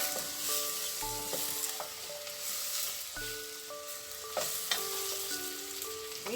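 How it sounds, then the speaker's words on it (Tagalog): Pieces of boiled beef fry in a pan for Ilonggo-style nilagang baka, a steady close sizzle with occasional clinks and scrapes of a utensil against the pan. "iprito na natin ng bahagya ang ating beef"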